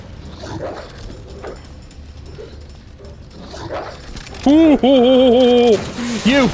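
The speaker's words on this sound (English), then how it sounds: "Come on, good doggos." Zombie dogs in the video game Resident Evil 2 give faint, scattered growls before a loud run of drawn-out yelping, whining howls near the end, with some voice underneath.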